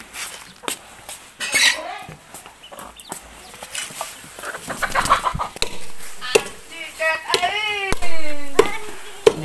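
Chickens cluck and squawk in a rural Vietnamese kitchen setting, several short calls near and fairly loud, with sharp clatter and chopping-like knocks between them.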